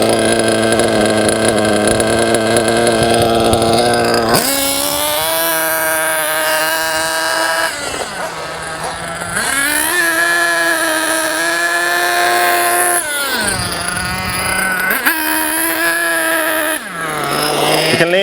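A JQ Products THERTR nitro RC engine runs during break-in while being leaned out, a loud, buzzing high-revving whine whose pitch jumps up and down in steps as the mixture is adjusted, continuous and close.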